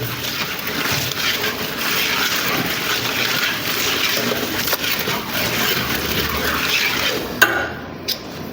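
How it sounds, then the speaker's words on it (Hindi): Red chili powder is stirred into a food mixture in a large catering pot, a steady, dense scraping and churning that runs continuously and fairly loud, with a couple of sharp knocks near the end. "ये आ गई जी लाल मिर्च पाउडर, हम करेंगे मिक्सचर में थोड़ा मिक्स।"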